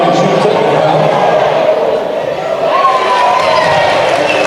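Crowd at a boys high school basketball game between Murray and Cottonwood, a loud, steady roar of cheering and shouting filling the gym, with voices layered throughout.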